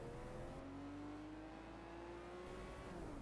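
Race car engine in the Project Cars 2 video game drones steadily at a quiet, distant level, its pitch holding and then shifting slightly as the revs change, with no voices over it.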